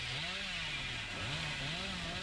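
A chainsaw rasps in the Dead by Daylight survival game as it is used to break a wooden pallet, a steady buzzing drone that wavers in pitch over about two seconds under quiet commentary.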